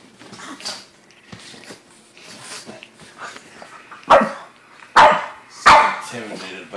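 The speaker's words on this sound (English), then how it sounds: "Oh, she growled." A pug dog barks three times in quick, loud bursts near the end after a softer, low grumbling stretch, with people talking quietly in the background.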